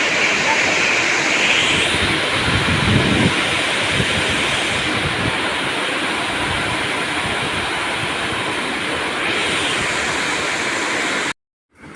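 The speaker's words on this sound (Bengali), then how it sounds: "এই যে ট্রেন চলে এলো" Steady, loud broadband roar of heavy rain with a train arriving underneath, its rumble blending into the downpour throughout before cutting off abruptly at the end.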